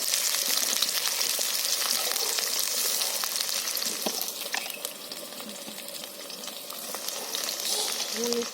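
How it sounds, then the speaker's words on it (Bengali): Potatoes frying in oil left over from frying fish, seasoned with salt and turmeric, giving a steady close hiss and crackle with occasional stirring scrapes. "আর একটু লবণ নুন দিয়ে আমি আলুটাকে লাল লাল করে ভেজে নেব"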